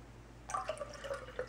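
Salt water mixture poured into a cup of warm water, heard as a short run of light liquid drips and splashes starting partway through, fairly quiet and close.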